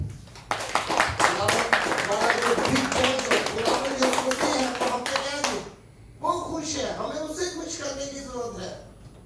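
During a Sunday church service, a congregation claps in quick, crisp strokes while voices speak over it, then the clapping stops and a voice continues talking alone.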